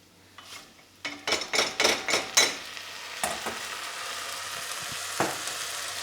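Rice tipped into hot fat with softened onions for jeera rice, a burst of sizzling followed by a run of rhythmic stirring scrapes, then a steady fry hiss with a couple of sharp clinks, close and fairly loud.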